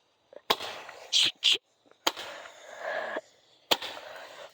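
Fireworks go off outdoors, with several sharp loud bangs spread apart and crackling bursts between them. Faint voices are present.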